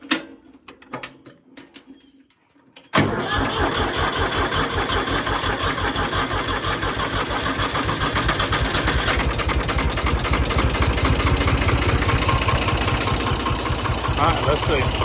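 A New Holland 273 tractor engine cranks with a few uneven turns, catches and fires, then settles into a loud, steady, close idle with a fast even chugging that runs on for several seconds.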